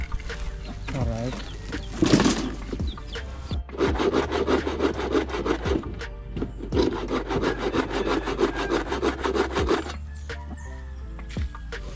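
Hand saw cutting through wood in quick, steady back-and-forth strokes, rasping loudly in two long bursts with a short pause between, close up, with occasional talk in the background.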